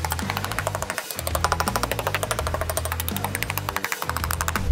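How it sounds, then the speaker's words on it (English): Hammers drive nails into metal joist hangers on a deck frame, a rapid, steady run of sharp, close strikes that repeats with brief pauses and no talking. "let's grab our hammers and start swinging away,"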